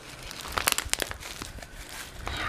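Patterned wrapping paper crinkles and tears close up as a mailed package is unwrapped, a quick cluster of crisp rustles and crackles with no talking.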